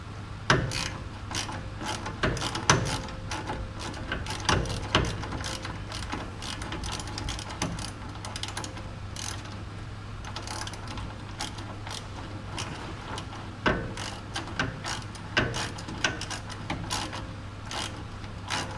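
A wrench ratchets steadily as the adjuster on the steering box of a Ford Edsel is tightened, producing loud, close, continuous clicking and creaking over a low hum. No speech is heard.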